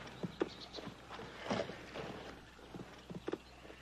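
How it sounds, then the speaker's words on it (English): Horse hooves clip-clop faintly on the ground in a Western setting, a scattered run of soft, fairly distant steps with no voices. "Get down off that horse."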